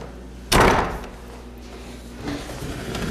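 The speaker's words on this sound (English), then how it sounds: "So let's shut this door." A door in an old house shuts with a single loud, close slam, followed by a quieter knock a couple of seconds later.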